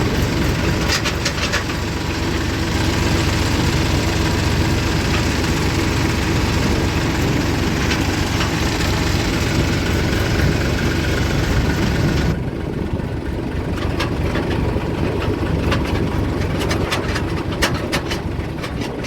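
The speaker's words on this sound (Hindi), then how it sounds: "मैं गांव की दूसरी साइड से ट्रैक्टर ले चल रहा हूँ" A tractor engine drones continuously at close range, loud and rumbling with a rattly texture, changing tone slightly partway through; no talking.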